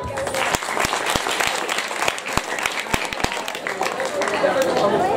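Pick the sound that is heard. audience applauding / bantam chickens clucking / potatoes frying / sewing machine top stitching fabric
audience applauding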